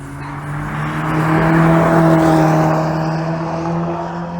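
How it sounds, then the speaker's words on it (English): A Fiat Uno race car with over 200 brake horsepower at Goodwood Motor Circuit, its engine swelling to a loud passing roar and then easing away, with no talk. "And just for Miss HubNut, we've got the Fiat Uno. Over 200 brake horsepower in this one."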